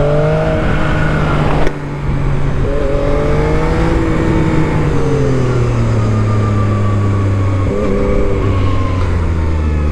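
A 2025 Zontes 703RR motorcycle engine drones loudly and steadily while riding, its pitch sliding up and down with a brief dip near the start like a gear change, and no voices.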